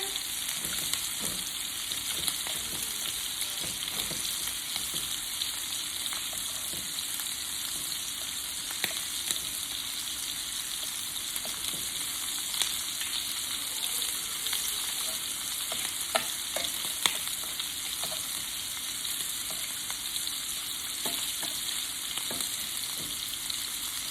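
Shrimp fry in a pan with a steady, even sizzle that runs throughout, broken by scattered small pops and spatula clicks, no talking.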